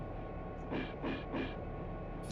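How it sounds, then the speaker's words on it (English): A diesel locomotive in the Run 8 train simulator, fitted with a 645 prime mover sound mod, rumbles steadily with a low drone and a few soft rolling surges. It is moderately quiet and plays alone. "Does this train sound any different to you?"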